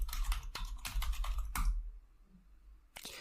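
Commands typed on a computer keyboard during a Metasploit multi/handler setup: quick close bursts of keystrokes, a brief pause, then a final short flurry of clicks, with no voices.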